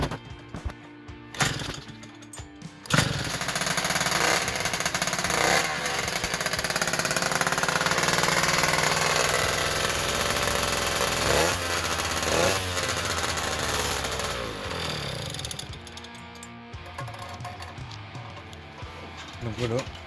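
A Polini 50cc engine on an MBK 51 Magnum moped, with the belt removed, starts and runs with a loud, harsh, buzzing two-stroke rattle close by for about twelve seconds, then cuts out. Someone speaks before and after.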